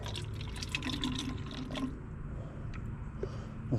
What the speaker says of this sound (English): Let's just pour it all in there.